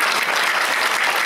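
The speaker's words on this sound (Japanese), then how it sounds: "はい、拍手でお迎えましょう。" Audience applause welcoming gagaku musicians onto the stage at an inter-faith harmony gathering at the Pakistan Embassy in Tokyo, a dense, steady wash of many hands clapping close by without a break.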